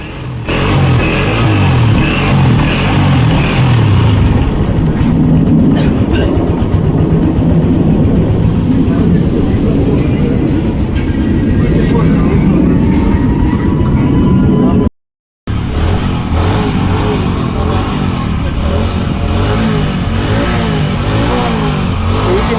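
Motorcycle engines start and rev loudly in a Pakistani village, a continuous close roar with repeated throttle surges and a brief cut before the engine noise resumes, with people talking over it.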